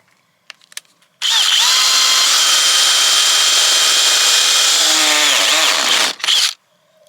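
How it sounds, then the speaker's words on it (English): A power drill whines loudly and steadily for about five seconds after a few faint clicks, drilling a hole in the bottom of a pond filter, then winds down, with a short final burst. "Let's just drill a hole in the bottom of this thing."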